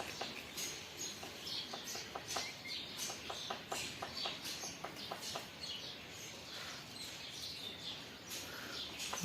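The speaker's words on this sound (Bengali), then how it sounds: "চড়ুই পাখির বাচ্চা" A sparrow chick cheeps in a thin, faint series of short, rapid chirps repeated in bursts against a quiet background.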